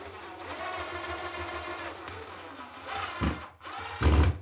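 A power drill drives screws into freshly installed wall anchors during a 1970s bathroom renovation, a steady motor whine running throughout with two louder bursts near the end, no speech.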